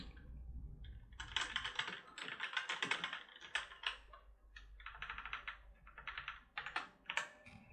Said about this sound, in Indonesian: Ini adalah suara keycap yang menyentuh dasar keyboard.